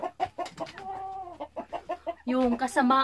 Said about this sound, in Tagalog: Kaya itong rooster na ito siya.